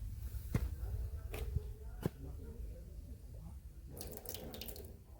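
A drinking water tap runs steadily at Shivneri Fort, a faint continuous flow with a few sharp knocks and a louder splash near the end.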